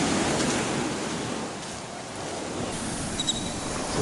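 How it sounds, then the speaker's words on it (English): Ocean waves wash onto a beach in the early morning, a broad, steady hiss of surf with a gentle swell and slight easing partway through, alone without voices. "Morning time's the only time we can hear the beach or the water"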